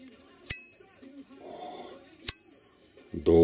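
A Russian hollow-ground straight razor blade is struck twice, each a sharp metallic ping with a long, bright ringing tail, amid faint background noise and a louder rustle at the end.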